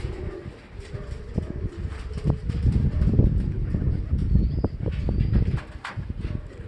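Racing pigeon hens entering the loft coo and flutter in a soft, continuous murmur, with scattered wing claps and shuffling close by and a faint bird call drifting in.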